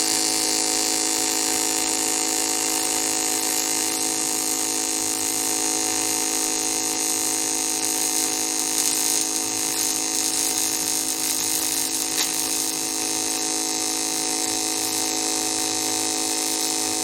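An AHP Alpha Tig 203xi TIG welder runs in a steady high-pitched electric hum and buzz, unbroken and close, holding an even level throughout with no talking.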